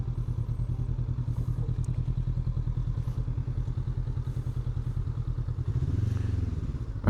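A 2025 Honda CB500F lightweight motorcycle with a slipper and assist clutch rides along, its engine pulsing in a steady, loud, close throb that swells briefly near the end, with some wind buffeting and no talking.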